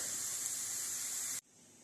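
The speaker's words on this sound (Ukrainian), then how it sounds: "Смажимо цибульку з морквою на вершковому маслі в наш печінковий пиріг." Onion and carrot fry in butter with a soft, steady sizzling hiss that cuts off abruptly partway through, leaving near quiet.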